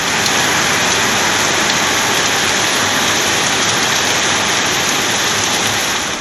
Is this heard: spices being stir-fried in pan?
no